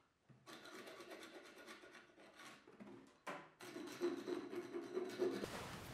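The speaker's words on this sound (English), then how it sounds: "used it to scrape off the glue squeeze-out that had formed along the edges of the fretboard" A Japanese half-round Iwasaka file scrapes dried glue squeeze-out from the edges of a bass guitar fretboard. It makes a close, continuous rasping rub in repeated strokes with one brief pause, growing louder toward the end.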